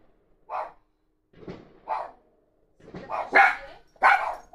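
Dogs bark in a town at night during a fireworks display at a party: several sharp barks come in uneven bursts, growing more frequent and louder toward the end.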